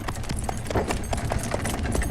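A horse's hooves clip-clop in a steady, quick rhythm on hard ground in a Tamil comedy film scene, loud and close throughout with a soft underlying rumble.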